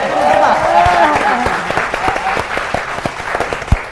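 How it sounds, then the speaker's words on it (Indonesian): A studio audience applauds on an Indonesian Ramadan quiz show. A voice speaks over the start, then brisk, dense clapping carries on and tapers with a few louder individual claps. "Ya, tepuk tangan dulu untuk kita."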